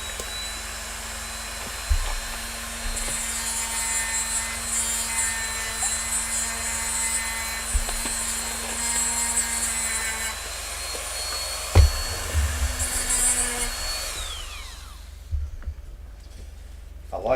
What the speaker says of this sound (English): I like using the Dremel for these jobs.